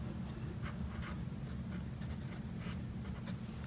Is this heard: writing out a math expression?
yes